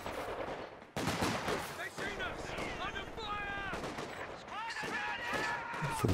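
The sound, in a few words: sniper firing in Company of Heroes 2 video game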